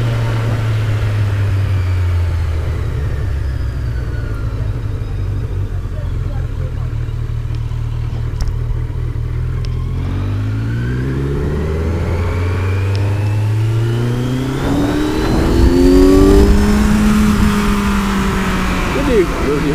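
A car accelerating at night on a city avenue, its engine loud and close, with the tone rising through gear changes toward the end while someone talks over it.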